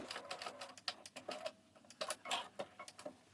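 Sewing machine finishing the diamond hem facing on a pair of trousers, a quiet rapid ticking patter of stitches with small clicks, close and alone.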